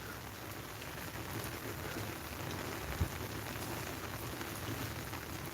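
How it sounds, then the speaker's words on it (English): Steady, increasing rain falls on a potato field throughout, a dense even patter with no voices and one brief soft knock midway. "The rain is actually increasing"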